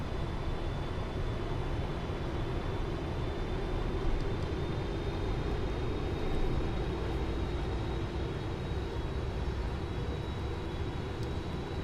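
Airliner on approach with flaps set and gear down in the Prepar3D flight simulator, a steady loud broadband engine and wind roar with a faint thin tone above it, continuous throughout.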